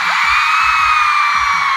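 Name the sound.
concert crowd of girls screaming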